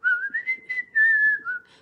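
A clear, close whistled melody of a few sliding, sustained notes, whistled while walking outdoors, with soft footsteps faintly beneath it.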